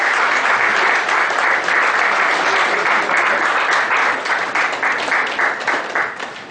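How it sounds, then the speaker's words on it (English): A round of applause from an audience at a programme inauguration ceremony as an honoree is called to the dais: sustained, fairly loud clapping from many hands that thins slightly near the end, with no talk. "Round of applause, ladies and gentlemen, Swarnalata."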